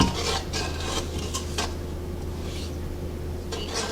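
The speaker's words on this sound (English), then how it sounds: "mix everything together, and then I want to go ahead and bring this to a boil" Lemon cookie fudge mixture is stirred in a pot on a stovetop over medium-high heat, the spoon scraping and clinking against the metal in irregular strokes over a steady low hum.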